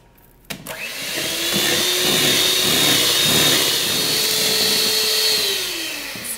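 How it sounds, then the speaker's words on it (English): Melted chocolate being whisked into eggs for a flourless chocolate cake, heard as a steady, loud motorized whir that starts abruptly and runs continuously with no talking. "So we're going to add some of the chocolate in here, a little bit at a time, and we're going to whisk it together."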